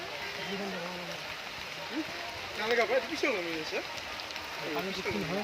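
Rain falling at a hilltop Shiva temple as devotees climb, a soft continuous patter under frequent nearby talking voices.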